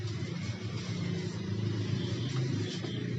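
Heavy road traffic hums and rumbles steadily as it is heard from inside a car, with a low, continuous drone and faint passing engine noise.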